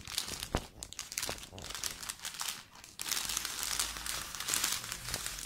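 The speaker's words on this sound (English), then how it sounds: "Come, let's unbox the bottle cleaner." Packaging crinkles and tears close up as a Scotch-Brite polypropylene bottle cleaner is unboxed, with uneven bursts of crumpling plastic and paper that grow denser and louder in the second half.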